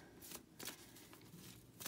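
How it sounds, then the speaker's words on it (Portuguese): An oracle card deck being shuffled by hand, quick soft riffling bursts repeating at close range against a quiet background. "Vamos tirar aqui esse baralhinho debaixo da pirita"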